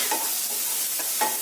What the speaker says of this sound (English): The onions are fried sufficiently.